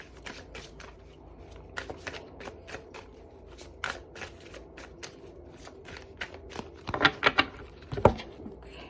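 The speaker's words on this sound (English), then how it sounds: "So I'm going to shuffle these cards one more time." A deck of tarot cards is shuffled by hand in quick riffles and soft slaps, close and crisp, with louder clattering bursts toward the end and no talking.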